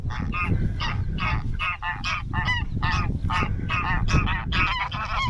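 A flock of geese honking loudly and continuously nearby on a Scottish hillside at Lamb Hill, many overlapping harsh calls forming a noisy racket.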